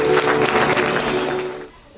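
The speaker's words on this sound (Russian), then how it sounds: "давайте поприветствуем главу бурными аплодисментами" Crowd applause at a Youth Day celebration in Botlikhsky District, welcoming the district head, dense and steady for most of the moment, then fading out quickly near the end.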